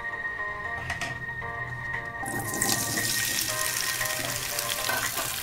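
Potatoes for dhaba-style dry aloo dum drop into hot mustard oil, setting off a sudden, loud hissing sizzle partway through that stays steady and close after a quieter start.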